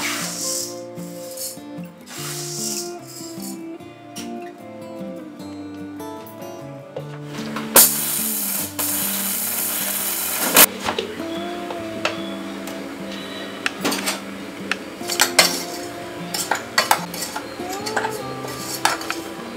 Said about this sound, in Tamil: நம்ம இதை நல்லா இப்ப மிக்சியில நல்லா பவுடர் பண்ணலாம்.